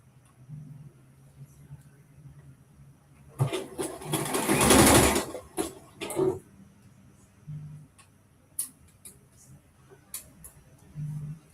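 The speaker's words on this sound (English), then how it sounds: "I'm still sewing around the sleeve, half inch, seam allowance." A sewing machine stitching a half-inch seam around a top's sleeve, one short steady buzz of stitching in the middle, with quiet clicks and handling noises before and after.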